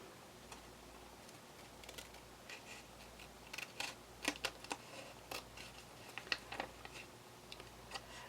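Quiet, close snipping of scissors through thin paper, a series of small crisp cuts growing busier toward the end, no talking.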